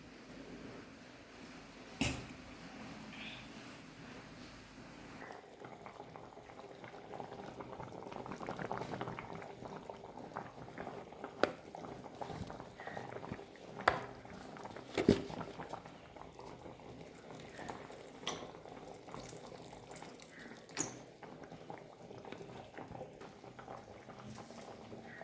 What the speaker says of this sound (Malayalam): ഇനി തിളച്ച് വരുമ്പോഴത്തേനും നമുക്ക് കുറച്ച് എണ്ണയും കൂടെ ഒഴിച്ചു കൊടുക്കാം.